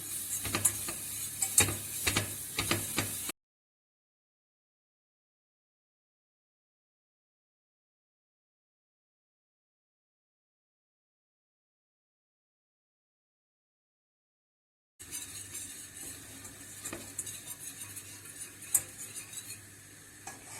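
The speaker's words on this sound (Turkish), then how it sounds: "yakmadan bunu güzelce kokusu çıkana kadar kavuruyorum unu" Steady scraping and rattling of a spoon stirring flour as it roasts dry in a pot, with a faint sizzle, breaking off into a long silence before resuming.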